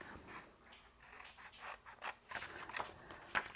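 Paper envelope pieces being cut away with snips: a few quiet, crisp cuts and rustles of paper, close and soft, with the sharpest snip near the end.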